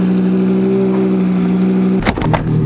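A Lamborghini Gallardo's twin-turbo 5.2-litre V10 drones at a steady, loud idle, then gives a couple of sharp blips of revving near the end, heard up close with no voices.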